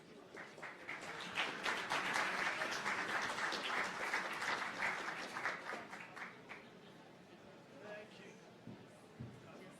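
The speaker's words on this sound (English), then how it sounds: "a big round of applause" An audience at a Tech Forum Argentina 2024 keynote breaks into a sustained round of applause, dense, even clapping swelling in the first seconds and then slowly thinning out toward the end.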